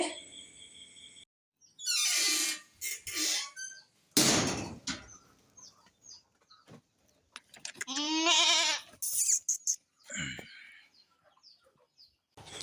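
Goats on a farm, including a newborn pair of kids, let out several separate bleats in short bursts with quiet gaps between them, some calls wavering and nasal, heard close and alone without talk.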